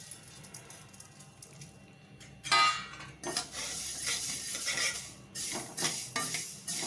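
Fenugreek seeds are dry-roasted in a pan, a spatula scraping and rattling them in close bursts of gritty stirring, quieter at first and then busier and louder.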